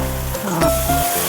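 Chicken pieces tossed into a pan of turmeric-spiced masala sizzle steadily with a continuous frying hiss, joined by faint scraping and a brief clatter partway through, close and fairly loud with no talk.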